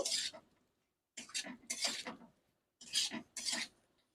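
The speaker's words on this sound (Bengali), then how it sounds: "ভেজে রাখা সোয়াবিন আলু সোয়াবিন মশলার সাথে আরও কিছু সময় আমি কষিয়ে নেব" Fried soybean chunks and potato are stirred with spices in a pan. Three short bursts of scraping and rasping follow one another close by and fairly quietly, with silent gaps between them.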